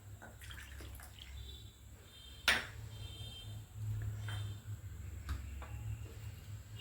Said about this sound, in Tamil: நம்ம 2 கப்பு பால் ஊற்றி வச்சுருவோம்.